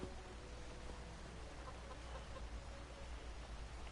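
Chickens clucking in the video game Elder Scrolls Online, a steady flock chatter with scattered clucks over a constant low background hum, faint and continuous without talk.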